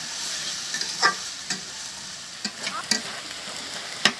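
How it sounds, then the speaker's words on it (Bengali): Onions frying in a pan, a continuous sizzle broken by intermittent scraping and clinking spatula strokes, close and moderately loud. "পেঁয়াজগুলি ভাজা হোক"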